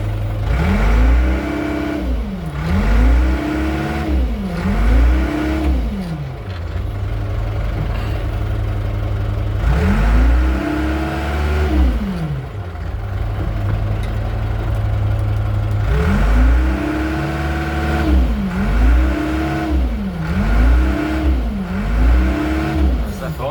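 A warmed-up Manitou engine idles in reverse gear during a gearbox pressure test, rising in repeated bursts of revving that come in clusters and then settle back to a steady, close mechanical hum.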